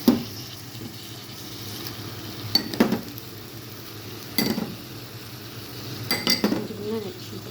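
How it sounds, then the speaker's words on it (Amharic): Macaroni being stirred quickly in a sizzling pan, with a utensil clinking and scraping against the pan in a few quick bursts over a low frying hiss, no talk. "ቶሎ ቶሎ አማስሉ እንዳይበላሽባችሁ"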